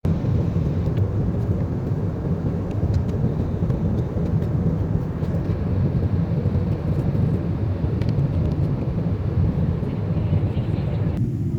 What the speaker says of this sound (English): we are landing in Boston